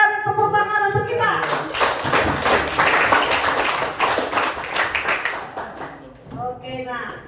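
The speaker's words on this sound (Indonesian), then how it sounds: "berikan tepuk tangan untuk kita" Students in a classroom clapping together, a burst of brisk group applause lasting several seconds between stretches of someone speaking before and after.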